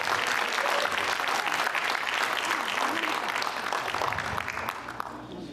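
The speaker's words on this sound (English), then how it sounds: "a big round of applause, please." A crowd at a 2019 Diwali event gives sustained, dense clapping that continues steadily for several seconds and tapers slightly toward the end.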